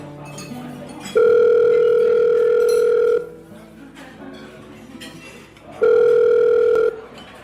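Outgoing call ringback tone: two long, loud, steady electronic rings, each lasting about one to two seconds with a pause between, heard over faint background music.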